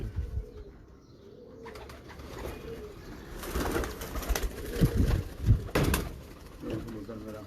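Sialkoti pigeons coo in a loft, low repeated coos building in the second half amid rustling and other bird calls, with people talking nearby.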